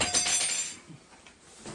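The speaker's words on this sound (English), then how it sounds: "is a set of crashing cymbals" A set of crashing cymbals at a winter camping setup gives one bright, metallic clash that rings loudly, then shimmers and fades away over about a second.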